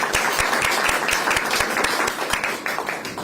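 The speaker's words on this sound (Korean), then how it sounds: "큰 박수 부탁드리겠습니다" Applause at a Korean political campaign rally, a sustained crowd of hands clapping with distinct sharp claps standing out against the steady wash.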